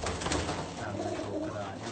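Pigeons kept as pet birds coo in low, soft repeated calls close by, continuous over two seconds with a faint murmur of background noise.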